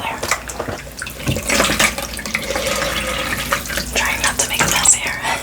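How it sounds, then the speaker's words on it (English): Tap water runs steadily and close by as a face is rinsed during an ASMR facial, a soft continuous splashing with small drips and no talk over it. "I'm gonna rinse it one more time because there's a little bit, just a little bit still there."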